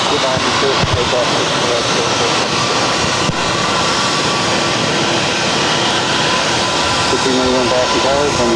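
An airliner taking off at Boston's airport, a loud continuous jet engine roar filling the whole span with a rising whine, heard close and steady, with radio chatter from the control tower running underneath.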